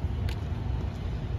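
A car passes along a road during a Saturday walk in Maine, a low rumbling swell of engine and tyre noise that stays fairly close and steady for a moment.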